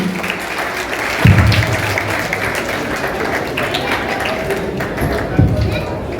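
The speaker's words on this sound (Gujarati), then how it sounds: "આપણે બધા તાળીઓથી વધાવશું" Audience at a school sports prize event clapping for winners, a steady wash of applause under a loud voice speaking over it, with a couple of thumps.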